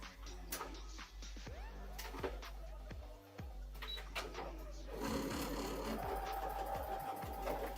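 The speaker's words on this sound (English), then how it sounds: "Sew these up together now." Sewing machine stitching fabric pieces together, a steady mechanical whir with rhythmic clicks and short bursts throughout, growing busier and louder in the second half, with a voice talking faintly in the background.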